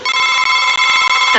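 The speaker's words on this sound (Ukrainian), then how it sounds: "а чи це телефон?" A telephone rings loudly and close with a bright electronic ringtone that pulses in quick, regular beats before cutting off at the end, with no voices.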